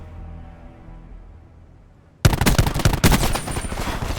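Rapid automatic Maddox rifle fire in Black Ops 4 bursts in loudly after a low droning lull, a dense close stream of cracking shots with a brief break midway.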